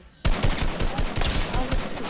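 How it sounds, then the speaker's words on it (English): Rapid gunfire bursts in a Fortnite match, dense and loud, cracking repeatedly for about two seconds after a brief quiet start. "I hear him shooting."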